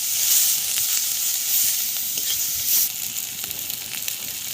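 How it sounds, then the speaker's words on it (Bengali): Ground turmeric, cumin and coriander powder sizzling and frying in a pan, a bright continuous hiss with occasional stirring scrapes, close and steady, no voices. "এবার মশলাগুলোকে ভালো করে কষিয়ে নেব"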